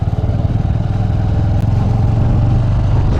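A motorcycle rides on a slippery mountain road between Lachung and Darjeeling, its engine a loud, close, steady throbbing rumble with rattling, continuous throughout.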